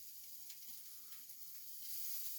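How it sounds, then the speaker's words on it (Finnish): Breakfast frying in a pan at a cottage on Boxing Day, giving a faint, steady sizzle and hiss that swells slightly near the end, with no voices. "Kuten kuulette, siellä tirisee aamupala."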